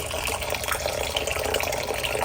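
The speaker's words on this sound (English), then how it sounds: "try to get this force of water to break up the toilet paper as best we can" Water pouring steadily onto RV toilet paper in a test container, a loud, continuous splashing stream close to the mic for the whole stretch with no pauses.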